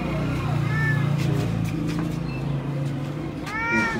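A cat meows several times, with a voice speaking briefly in the background between the rising, drawn-out cries.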